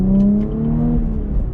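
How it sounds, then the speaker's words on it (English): A 2021 Chevrolet Camaro RS 1LE V6 with active exhaust pulls away through a gear, its engine note rising steadily and strong up close, with no talking. "with that active exhaust, you could hear that extra sound coming in"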